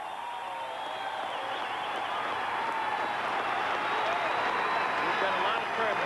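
Sustained, dense applause and cheering from a golf gallery as John Daly walks up the 18th fairway, steady and loud throughout without a break.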